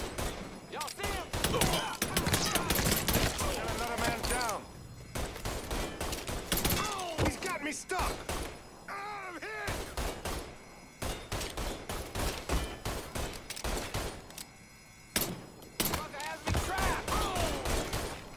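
Rapid bursts of gunfire from a Mafia 3 shootout crackle through most of the stretch, loud and close, with brief lulls between volleys and a voice talking over the shots.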